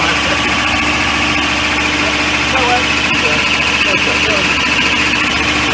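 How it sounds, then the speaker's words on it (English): An industrial machine's engine runs steadily and loudly while its brake is applied for a few seconds, making a constant drone with vibration. Faint voices come through briefly under the noise. "We just apply the brake for 5 seconds."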